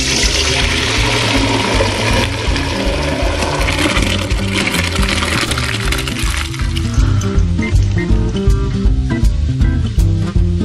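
Water from a pot of boiled ziti pasta being poured out to drain, a loud, continuous rushing gush with splashing, steady for the whole stretch, close by.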